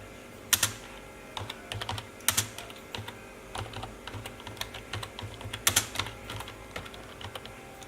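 Irregular bursts of typing on a computer keyboard while an email message is written, close and clear with quick clustered keystrokes and brief pauses, no voices.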